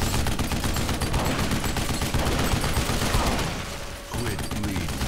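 Rapid automatic gunfire from aliens in the first-person shooter game Duke Nukem Forever, loud dense bursts that rattle continuously, briefly easing near the end before resuming.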